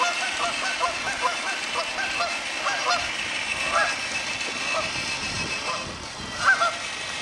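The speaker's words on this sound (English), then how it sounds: "Hello geese, get off my land." Geese honk repeatedly near a swamp, a scattered flock calling at moderate distance with one louder honk toward the end, over steady outdoor background noise.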